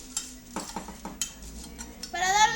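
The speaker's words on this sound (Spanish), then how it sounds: "Le vamos a prender al fuego Ah, y vamos a revolver" Utensil stirring and scraping chili piquín in a pan over a fire, a few light metallic clinks and scrapes, then a rising sizzle of frying toward the end.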